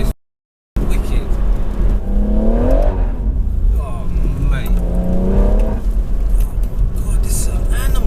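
A JB4-tuned BMW M140i accelerating hard from inside the cabin, loud engine drone rising in pitch through the gears with shift breaks, someone briefly speaking over it.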